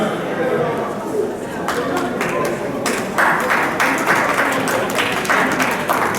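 An audience at a live-stream charity event claps, a dense patter of hands under crowd chatter, breaking into a louder burst midway.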